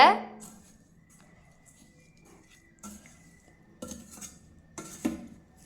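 Ravaa laddu mixture of semolina, ghee and milk stirred by hand in a metal vessel, giving scattered soft clinks and scraping knocks in short bursts, with someone speaking over it.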